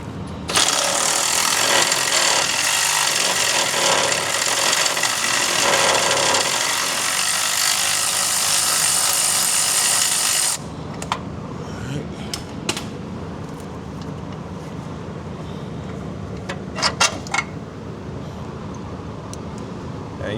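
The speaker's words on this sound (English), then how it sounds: "We can let our electric ratchet do the work." Electric ratchet removing bolts: a loud, steady mechanical whirr runs for about ten seconds and then stops, followed by quieter clicks and handling noises.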